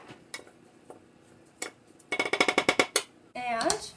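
A utensil stirs rice and potatoes in a cooking pot, first with a few scattered clinks, then a quick rhythmic run of scraping knocks against the pot, and a voice starts up at the end.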